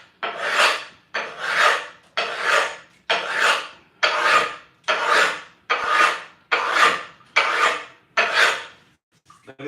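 A file rasps across the edge of a stone tile to bevel it, in about nine even back-and-forth gritty strokes, close and loud, with short pauses between strokes.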